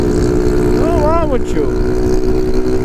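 A modified Honda CG Titan motorcycle engine running loud and close, with a rising and falling rev midway as someone talks over it.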